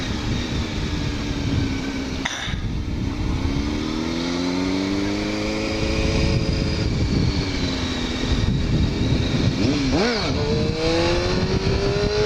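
A motorcycle accelerates hard in second gear, its engine note rising steadily in pitch with a brief break and then climbing again, loud and close with rushing wind noise.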